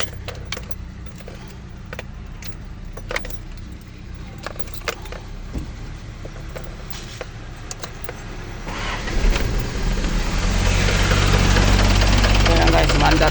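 A car engine runs in the background with scattered clicks and knocks, then the engine roars louder after about nine seconds and stays steady and close to the end.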